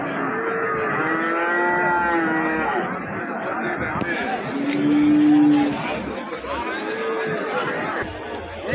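Cattle moo at the Karungalpalayam livestock market in Erode, with several drawn-out lows, one especially loud and near, rising over steady crowd chatter and someone talking.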